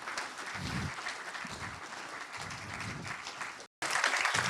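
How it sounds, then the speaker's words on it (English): An audience claps warmly at the Strength To Succeed 2022 event, a steady, dense round of applause that cuts out abruptly near the end before resuming at full strength. "Just give him a massive round of applause"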